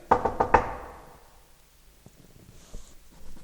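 Three sharp knocks on a door ring out in quick succession as a theatre sound effect in a staged telling of the wolf and the seven young goats, followed by near silence and faint rustling.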